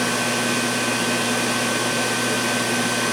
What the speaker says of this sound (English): How about a vacuum cleaner? We know these things are power hungry.